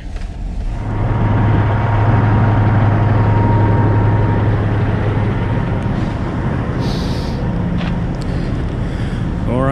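A big truck engine idles with a steady, loud low rumble that runs unbroken throughout, with a faint higher whine and a brief rattle near the end, and no voices.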